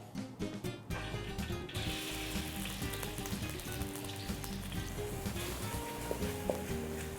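Fresh chili curry paste is stir-fried in a hot pan and sizzles steadily, with a busy layer of tonal background sound running underneath.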